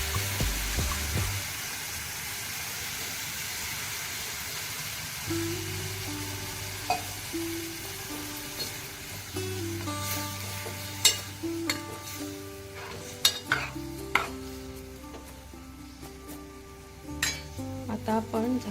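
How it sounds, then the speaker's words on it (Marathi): Water is added to a prawn curry in a pot and stirred, producing soft bubbling sizzle, scraping stirs and several sharp utensil clinks against the pan, with faint tonal sounds in the background. "आता त्यामध्ये थोडं पाणी टाकणार आहोत।"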